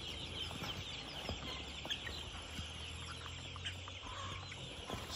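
Broiler chickens in a brooder pen on a farm, a flock of about 350 four-day-old birds, cluck and cheep continuously at a low, steady level without any speech.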